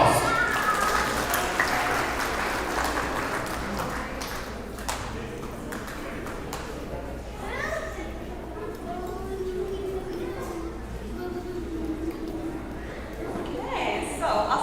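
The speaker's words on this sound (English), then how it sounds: "Please give them a round of applause." Guests at a valima wedding reception clap in a fairly dense round of applause that runs the whole stretch, mixed with chatter and voices throughout.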